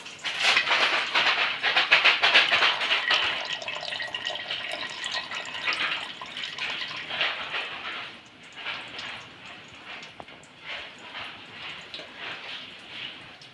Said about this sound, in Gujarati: સાબુદાણામાં જે પાણી વધ્યું હોય તે આપણે આને નિતારી દઈશું.